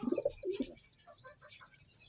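Racing pigeons coo in a few soft, low throaty bursts close by, followed by fainter high chirps and twitters in the background.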